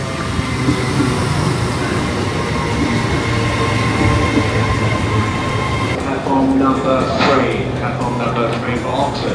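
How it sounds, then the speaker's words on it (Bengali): A train pulls into a London station on the Elizabeth line, its loud steady rumble running throughout with a brief burst of brake squeal and hiss near the end, while people talk nearby. "এর আগে দেখেন ট্রেন চলে এসেছে।"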